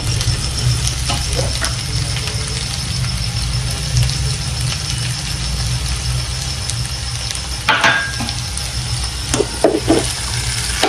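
Okra bhaji with fresh coriander sautéing in a pan gives a steady close sizzle over a low hum, with a few brief scraping stirs near the end.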